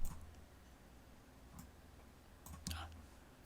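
A few sharp computer mouse clicks, spaced apart, over a faint steady background hiss in a quiet room.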